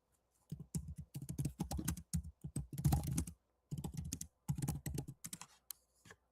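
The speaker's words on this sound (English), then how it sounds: "Here, let me type in, for example, let me do my company" Bursts of quick, close keystrokes on a computer keyboard come in several runs separated by short pauses, crisp and fairly loud with no talking.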